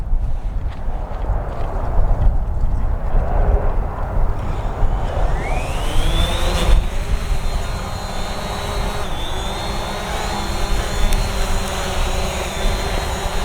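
A Hubsan Zino drone flies with a steady loud whine, its rotor pitch sliding upward and holding high, close and continuous under wind-like rush, with no talking.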